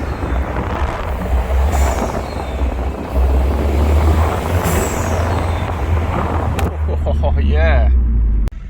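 A Citroen DS3 fitted with a performance induction kit runs with a deep, steady engine rumble and loud intake whoosh close by, a voice briefly speaking over it near the end.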